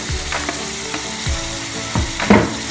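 Tomatoes frying in a pan for Indonesian butter fried chicken (ayam goreng mentega): a steady close crackling sizzle broken by a few sharp scraping stir strokes of a spatula.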